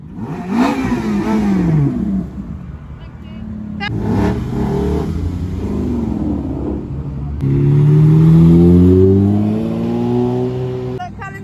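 Ford Mondeo engine revving at the Silverstone Classic, heard from the roadside near a dual carriageway, with several loud rising and falling revs and a sustained high-pitched engine note toward the end.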